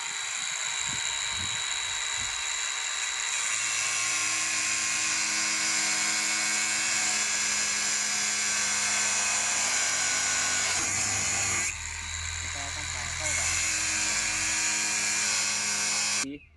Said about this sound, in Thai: ตอนนี้เราต้องตัดหัวน็อตนะครับ